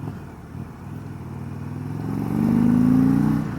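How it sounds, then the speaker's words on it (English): An Indian Chieftain Limited motorcycle fitted with a Tab Performance exhaust, its deep engine note building steadily as the bike accelerates on the road, loud and close with a rising pitch toward the end. "Boy, does this bike sound good. Tab Performance sounds excellent."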